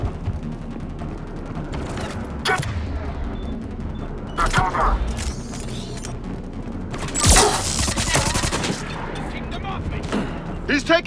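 Sporadic gunfire and impacts in a Mass Effect 3 battle, sharp cracks and bursts at irregular intervals, including a loud blast near the middle, over continuous rumbling combat noise with voices shouting throughout.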